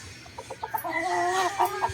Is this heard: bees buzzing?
no